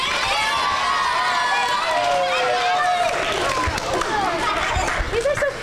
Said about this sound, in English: Give them some thank you applause.